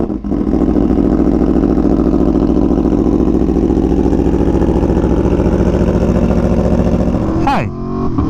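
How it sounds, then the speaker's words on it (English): An Aprilia Tuono V4 1100 Factory motorcycle engine idles loud and close in a steady, throbbing rumble, then revs sharply near the end before settling. "But the Tuono still sounds so good."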